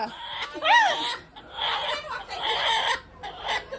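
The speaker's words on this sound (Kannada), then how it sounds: "ಕೋಳಿ ಎಲ್ಲ ಜೋರಾಗಿ ಸಾಕಿದೀರಾ?" A hen clucks nearby in a short run of calls, while people chatter and laugh around it during a Ganesha immersion celebration in Bangalore.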